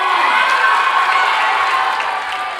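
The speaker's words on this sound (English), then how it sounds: "Give them a round of applause" Middle school students at a Black History Month assembly clapping and cheering loudly for the winning purple team, a dense, sustained roar of shouts and applause.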